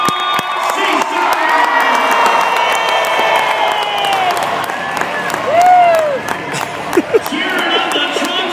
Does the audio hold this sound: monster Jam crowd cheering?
yes